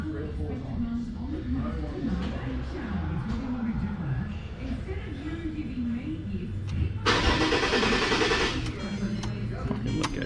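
A car engine cranks at length after a fuel filter change, a rhythmic wavering turnover under conversation, then catches with a sudden louder burst near the end.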